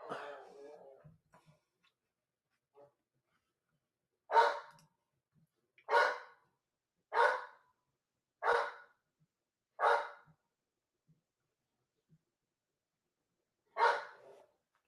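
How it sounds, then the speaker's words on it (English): A dog gives a series of loud single barks at an uneven rhythm, about six in all with pauses of a second or more between them, in an otherwise quiet room. "hold on, pausing for barking."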